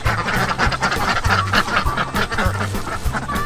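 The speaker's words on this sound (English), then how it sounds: "Here are our ducks" Several ducks on a homestead quack loudly and close by, a busy, overlapping chorus of repeated nasal calls with no pauses.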